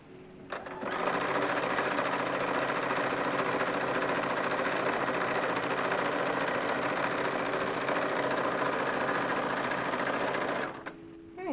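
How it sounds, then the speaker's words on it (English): A sewing machine stitches darts on an early 1850s style summer dress, a steady close whirring and rapid needle chatter running continuously for about ten seconds, starting and stopping cleanly, with no talk. "So we're going to sew the darts real quick."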